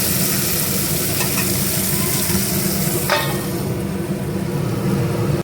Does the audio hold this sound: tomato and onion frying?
yes